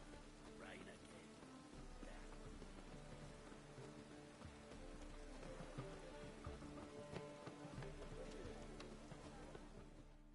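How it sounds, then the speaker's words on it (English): Rain falls steadily on surfaces in The Witcher video game, a soft, continuous patter of drops with faint bird coos mixed in, quiet and ambient throughout. "Rain again."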